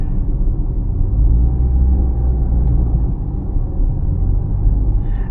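A 2025 Suzuki Swift GLX with a 1.2-litre CVT drivetrain pulls away under throttle, a steady low engine drone and road rumble heard from inside the cabin, loud and continuous with no talk.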